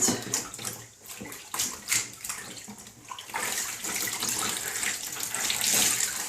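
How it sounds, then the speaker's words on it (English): Water splashes and trickles as a WW2-era nurses' veil fabric is wetted and wrung out in a basin, a fairly quiet, continuous run of dripping and sloshing with uneven swells and no voices. "Give them a wring out."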